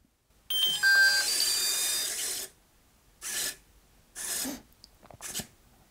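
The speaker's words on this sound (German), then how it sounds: "Dann initialisiert der Heli mit Piepserei und der bewegt auch nochmal die Taumelscheibe zum Ausprobieren." FlyWing Airwolf V2 450-size RC helicopter with GPS and H1 controller, initializing with electronic beeps while the swashplate moves for a test: a long dense burst followed by three shorter bursts, close and fairly loud, no talk.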